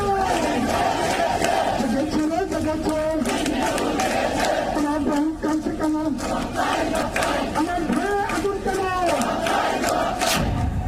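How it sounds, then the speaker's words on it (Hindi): A large crowd of Hindu protesters in Bangladesh chanting Hare Rama Hare Krishna in rhythmic, rising and falling unison, loud and sustained throughout. "अब वहां पर हरे रामा हरे कृष्णा की गूंज सुनाई दे रही है"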